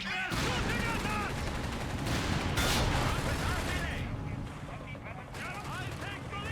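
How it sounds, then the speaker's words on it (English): Dense gunfire from the Company of Heroes 3 video game, with machine-gun bursts, rifle shots and heavier artillery-like booms layered into a loud, continuous barrage while in-game voices shout over it. "They're shooting at us!"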